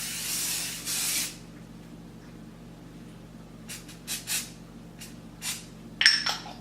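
Spray foundation makeup misted from a can in a long hiss, then a second burst, followed by quieter clicks and light tapping sounds nearby.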